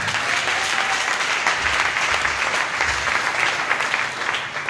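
A church congregation breaks into loud, sustained applause, a dense wash of many hands clapping together for several seconds, with a few voices mixed in beneath it.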